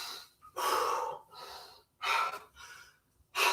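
Heavy, gasping breaths after a hard set of dumbbell leg exercises, three loud breathy bursts with short pauses between, close to the microphone and without talk.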